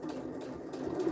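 A sewing machine stitches a patchwork duffle bag, a steady close mechanical hum with a fast even rhythm running throughout the short stretch, no talk over it.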